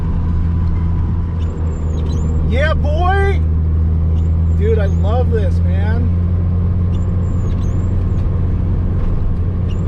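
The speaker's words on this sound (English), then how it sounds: "I love the fact that I'm driving my car through here, the S13." A Nissan S13 240 climbing a snowy mountain pass, its engine a steady loud drone inside the cabin, while a man excitedly exclaims over it.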